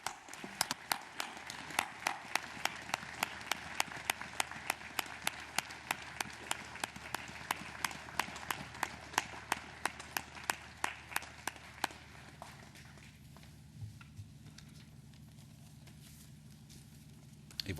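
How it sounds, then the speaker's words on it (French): A crowd at a 75th anniversary commemoration ceremony at the Mardasson memorial gives steady, rhythmic applause that runs for about twelve seconds, then stops, leaving faint outdoor ambience. "Merci de l'applaudir."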